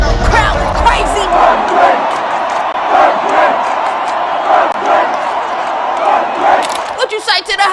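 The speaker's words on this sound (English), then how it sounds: "Crowd is crazy." Crowd at a concert cheering and shouting in loud surges, voices rising in waves over about eight seconds with close-up yells near the end.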